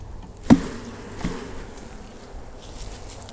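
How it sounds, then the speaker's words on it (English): Honey bees shaken firmly into a hive box, a sharp thump followed by a second softer knock over a faint, continuous buzzing of bees. "So when I shake bees into a hive"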